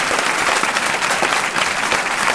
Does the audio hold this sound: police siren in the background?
no